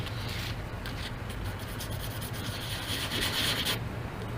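Sandpaper rubs back and forth across gelcoat to smooth out scratches, a quiet, steady gritty rasp in continuous close strokes.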